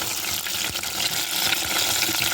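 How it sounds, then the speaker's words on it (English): Samosas deep frying in a pan of hot oil, a steady close hiss and bubbling crackle with no pauses and no talking. "so we're gonna keep frying them"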